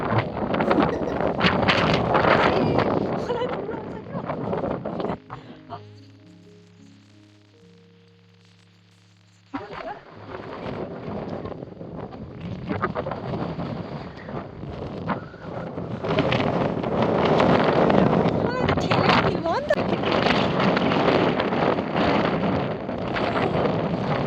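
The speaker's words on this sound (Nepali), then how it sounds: "खतरनाक हावा आउँदो रहेछ साथीहरू, खतरनाक" Strong gusting wind in Mustang buffets the microphone with loud rumbling bursts, drops to a quiet lull with a faint tonal hum midway, then returns heavier and sustained to the end.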